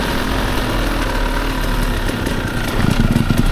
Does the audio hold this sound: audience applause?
no